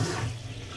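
A steady stream of running water rinses a dog during a bath at home, a close continuous wash with no talking.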